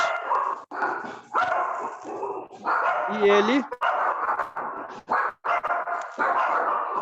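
A dog gives short barks and a whimpering yip indoors, mixed under a person talking for most of the stretch.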